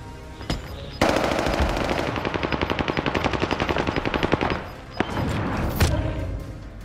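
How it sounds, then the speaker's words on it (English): Heavy automatic gunfire in the video game Call of Duty Vanguard, on the Caldera map in Resurgence mode: a long rapid burst of loud rhythmic shots, with single bangs before and after. "Taking heavy fire."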